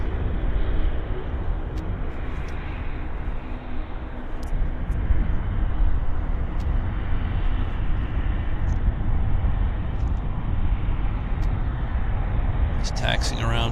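Airplane taxiing at Vancouver Airport toward the south-side WestJet domestic gates, a steady broad engine rumble that stays loud and continuous throughout, with a brief higher whine rising near the end.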